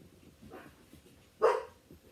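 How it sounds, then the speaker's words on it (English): A household dog lets out one sharp bark, with a softer bark or whine just before it. Both sound fairly close in an indoor room. "please forgive my dogs barking"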